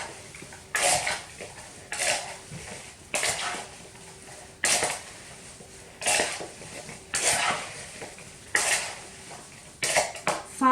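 Apple slices tossed with sugar in a bowl, a utensil scraping and clinking against the bowl in regular rhythmic strokes about once a second, close and moderately loud.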